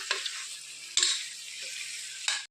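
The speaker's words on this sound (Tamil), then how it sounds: "சிக்கன் நல்லா வதக்கிக்கலாம்" Chicken sizzling as it fries in masala, a steady broadband hiss with stirring bursts near the start, middle and end, close and fairly loud, no voices.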